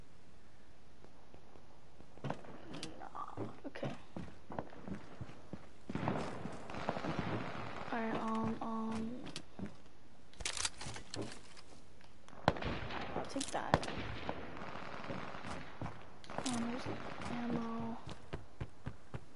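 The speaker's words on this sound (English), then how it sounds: "It's a gun." Sharp bursts of video game gunfire crack out in scattered, irregular shots across the stretch, some close and loud, others fainter, with brief tonal game effects in between and no talk.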